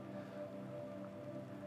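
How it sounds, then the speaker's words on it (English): Rain falls steadily at an outdoor skate park, a continuous soft patter and hiss with no clear breaks, moderately loud and close, with no voices over it. "now we have rain"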